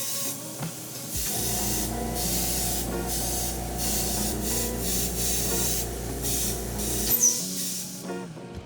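An airbrush hisses steadily as it sprays paint over a handmade balsa wood mouse wake bait. The spray runs as one long continuous burst with a faint low rumble underneath, then cuts off near the end.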